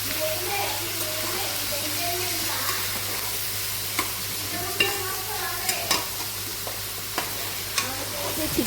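Chicken frying in a pan for a home-cooked chicken curry, a steady low sizzle with occasional light clinks and scrapes of stirring, continuous and close throughout.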